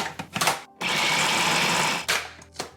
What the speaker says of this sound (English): the key here is that you have to put it through the food processor